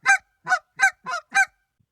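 A honker goose call sounds five short, evenly spaced honks, loud and close with clean silence between them, closely mimicking a goose.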